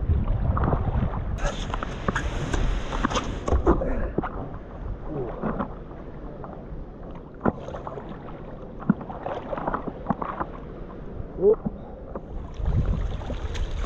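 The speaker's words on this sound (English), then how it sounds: "the waves just getting us" Small waves lap and slosh against an 11 ft Decathlon Itiwit inflatable paddleboard out on open water. Irregular splashes and knocks come close to the microphone over wind rumble.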